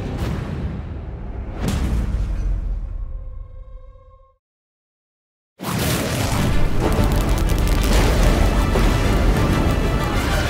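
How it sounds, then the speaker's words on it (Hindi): Loud booming blasts with a ringing tail fade into silence, then a sudden roaring burst of noise erupts and rumbles on. "शक्ति यंत्र से एक विस्फोट हुआ, इतना तेज कि पूरा समारोह हॉल कांप गया"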